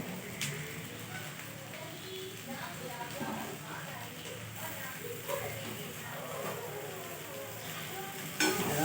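Onion and two green chillies fry in a pan at home, a steady soft sizzle with occasional stirring scrapes underneath, moderately quiet throughout.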